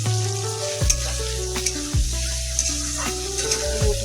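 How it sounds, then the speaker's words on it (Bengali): Potatoes fry in oil in a pan with a bright, steady sizzle, punctuated by a few sharp clinks and scrapes of a utensil stirring, close and with no speech. "আলু ভাজা হয়েছে"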